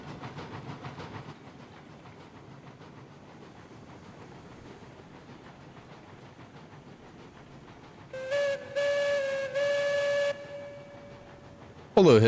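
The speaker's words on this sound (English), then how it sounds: "hit whistle here since we're coming into the station" A steam locomotive whistle in the video game RAILROADS Online, sounded as a long train nears a station: a few close, bright multi-tone blasts over a steady low rumble of the moving train, followed by a short noisy burst.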